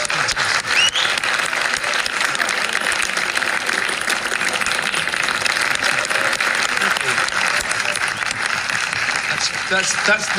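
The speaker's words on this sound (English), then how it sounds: "I'm sure we'd like to give him a huge round of applause, Bernie." A large audience gives a guest a sustained round of applause, loud continuous clapping from many hands filling the room without a break.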